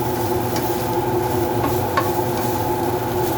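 Chorizo, eggs and hashbrowns sizzle steadily in a frying pan as a utensil stirs and scrapes through them, giving a close, even hiss with a few brief scraping accents.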